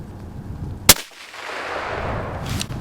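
A single sharp gunshot fired at a can outdoors, one loud close crack followed by a rumbling tail and steady background noise.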